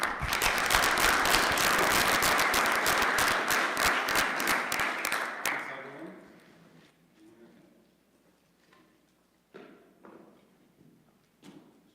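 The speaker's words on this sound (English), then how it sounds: "So let's give a round of applause for Mike." Conference audience applause for a speaker, a loud dense burst of clapping that fades after about five seconds, leaving scattered thumps and faint room noise.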